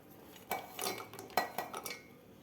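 A steel mixer grinder jar is handled and set down for grinding chicken curry masala in a home kitchen, giving a few close metallic clanks and knocks spread over a couple of seconds.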